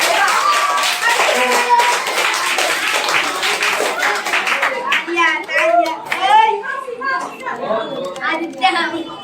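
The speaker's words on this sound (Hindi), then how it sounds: "तालियां रुकना नहीं चाहिए।" Audience at a Saraswati Puja award ceremony claims in sustained, dense applause, with children's voices and chatter mixed in throughout.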